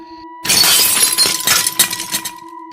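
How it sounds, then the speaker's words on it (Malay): A mirror shatters in a sudden loud crash of breaking glass, followed by scattered tinkling shards falling and settling for about two seconds. "Tiba berderai cermin tu."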